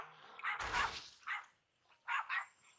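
A dog in the hunting game Monster Hunter Rise Sunbreak yips and whines in short, separate bursts, alongside a sharp burst of other game sound, all close and clear.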